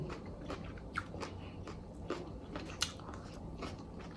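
Someone chews and bites into Thai beef larb up close, a run of soft crunchy bites and wet mastication with a few sharper crunches, alone and fairly quiet.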